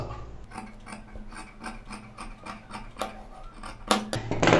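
Scissors cut cloth for a pinafore school uniform, trimming the frayed edge with a series of crisp, rhythmic rasping snips, close and fairly loud, with no talking.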